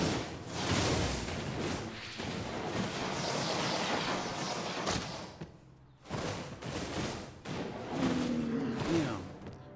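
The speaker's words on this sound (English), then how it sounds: "Sounded like he was shooting a gun at me." Gunfire in the fantasy MMO game Crowfall, a burst of loud cracking, booming hits and whooshes with a brief silent gap before more impacts.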